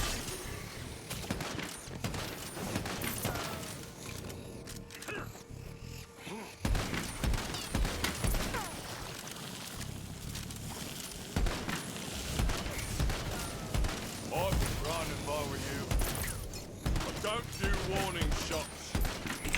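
A box-magazine gun in a video game fires over and over in rapid, dense bursts, sharp cracks piling into a near-continuous barrage that stays loud throughout, with other game noise mixed in.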